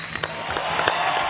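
A studio audience at a comedy show applauds a singer's arrival, a short burst of dense clapping from a crowd.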